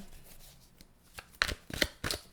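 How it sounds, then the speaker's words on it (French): Tarot cards being shuffled and drawn, with a few quick, close riffling bursts and soft card slaps after a quiet start. "On va prendre une dernière carte"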